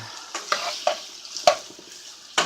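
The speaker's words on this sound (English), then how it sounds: "So I've got my andouille sausage in there, sauteing" Andouille sausage sautéing with peppers and onions, a continuous sizzle punctuated by five sharp, close scraping stirs spaced irregularly.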